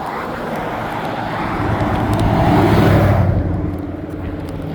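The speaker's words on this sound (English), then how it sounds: "See these cars coming?" Cars drive past on a roadside stretch, their tire and engine roar swelling to a loud peak near the middle and then fading as they move away, with no voices.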